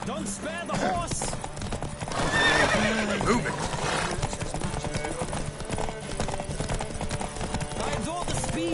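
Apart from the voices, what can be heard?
horses galloping and neighing in a race, video game The Witcher 3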